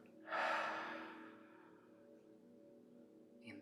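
A single breath out through the mouth, a soft close airy exhale that fades over about a second, with a faint low hum beneath and a short rustle at the end.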